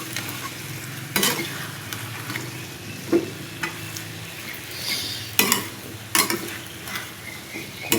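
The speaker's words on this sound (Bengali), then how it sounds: "লাড়াতে দেবো, মশলাটি কষানোর পরে" Spices fry in a pan for a fish curry while being stirred, a soft steady sizzle broken by several sharp scrapes and clanks of a utensil against the pan at irregular intervals.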